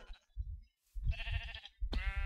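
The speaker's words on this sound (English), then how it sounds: "I hate sheep" Sheep bleating in the Minecraft video game, three short nasal bleats in quick succession separated by brief pauses, close and clear with no talking.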